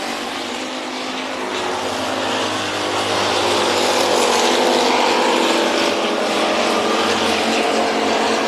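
Race cars in a heat race at Junction Motor Speedway, a steady loud engine roar that builds slightly and holds as the field passes, with no talk.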